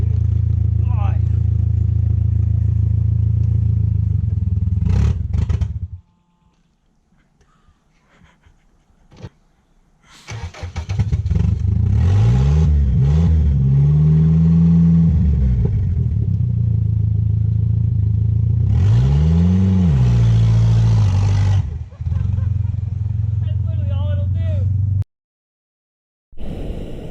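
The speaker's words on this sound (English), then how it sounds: "we're gonna try to fulfill our quest to do a burnout in our conquest" A Turbo Hemi-powered Conquest, a miniature car, revs loudly during a burnout attempt, its engine droning steadily with rising and falling pitch sweeps, broken by brief quiet gaps and abrupt cutoffs.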